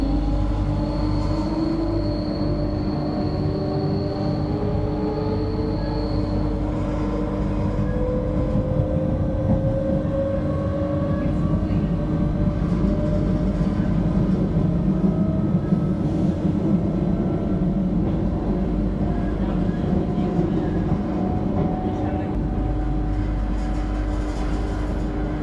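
Train standing at a station in Sintra, Portugal, with a steady low rumble and hum and faint tonal whines, continuous and fairly close, no voices.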